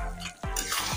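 Spoon stirring chili eggplant through a cornflour slurry in a pan, giving a brief close scrape and soft wet shuffle with a faint sizzle, no talk.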